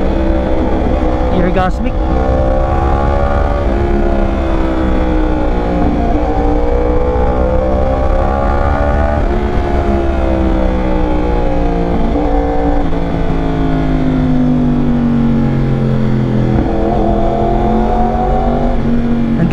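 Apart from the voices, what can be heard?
2021 Yamaha R1 motorcycle revving with loud exhaust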